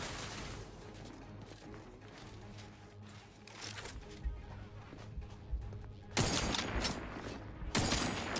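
A steady background of video-game combat gunfire rattles along, then two loud, broadband bursts of shooting or blasts hit near the end.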